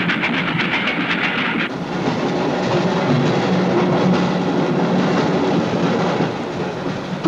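A train from the 1972 film Horror Express rolls along steadily with continuous rumbling wheel noise and faint rhythmic clacking over the rails, filling the whole stretch without voices.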